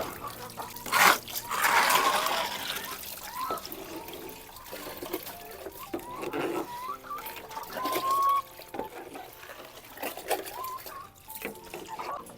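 Backyard poultry coop chickens cluck in short, scattered bursts over about twelve seconds, mixed with water running and splashing nearby.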